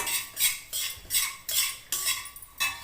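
Broken wheat rava being stirred and roasted in a pan gives a repeated, rhythmic scraping of a spoon against the metal, close and fairly loud, in regular strokes with no talking.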